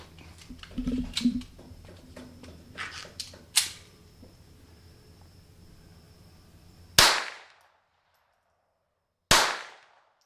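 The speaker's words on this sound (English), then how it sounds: "first, .22 with one round nose and one high velocity hollow point" .22 rounds are fired at old Kevlar body armor, giving two sharp, loud cracks several seconds apart with echoing decay, after some quieter handling clicks and knocks.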